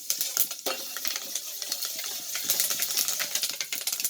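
Fenugreek seeds roasting in a pan, being stirred until golden: continuous dry rattling and scraping with dense clicks of the small seeds against the metal, steady and close throughout.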